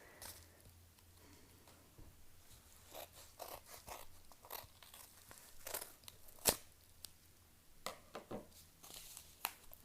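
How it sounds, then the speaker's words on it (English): A package of Magic: The Gathering cards is cut open and unwrapped up close, with soft tearing, crinkling plastic and scattered sharp snips and rustles at low volume. "I'm gonna need to cut this one open"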